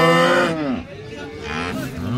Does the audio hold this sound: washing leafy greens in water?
no